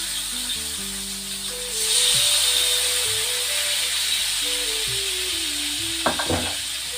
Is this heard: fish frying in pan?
yes